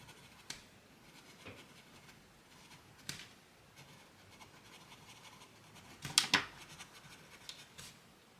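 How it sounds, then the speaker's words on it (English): A Lamy Safari Special Edition fountain pen scratches lightly across paper in short, quiet strokes, with one brief louder rustle near the end; no voices. "I just really love writing with this one."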